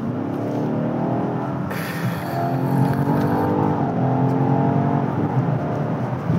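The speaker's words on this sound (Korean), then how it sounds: "여기 약간 좀 길이 뚫려서 M을 놓고 한번 밟아볼게요." A BMW XM in M mode accelerating hard on an open road: a loud, continuous engine roar that swells and climbs in pitch as it revs, with no talking.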